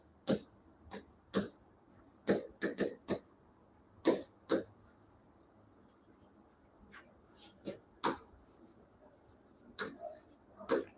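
Chalk tapping and scraping as equations are written on a board in a Class 10 quadratic equations maths lesson, irregular sharp strokes with quiet gaps between them, close and clear in a quiet room.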